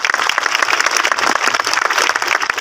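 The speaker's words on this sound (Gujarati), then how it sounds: "એકવાર તમારી શિસ્તતાને જોરદાર તાળીઓથી બતાવજો." Audience at a Surat family community reunion gathering applauding, a dense steady wash of many hands clapping at once, fairly loud and continuous with no talk over it.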